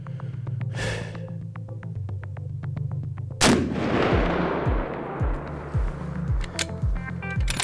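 A single loud, sharp gunshot cracks out during chronograph testing, followed by a long rumbling echo and reverberation fading over several seconds, with faint clicking around it.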